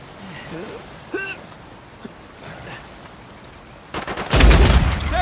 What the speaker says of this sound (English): We're about to get shot at.